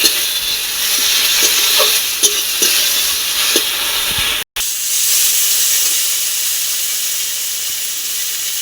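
A paste of ground ginger, garlic and dried chilli hits a hot pan, giving a loud steady sizzle and hiss with a few stirring scrapes, briefly cut off midway before the sizzle resumes.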